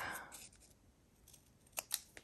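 Scissors snipping through junk mail envelope paper while a tab is trimmed, giving a few quick, crisp close cuts near the end after a quieter stretch.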